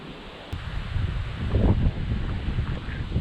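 Gusty wind at a UK campsite on a warm summer day, a steady broadband rush with a stronger gust in the middle, close to the microphone and with no talking.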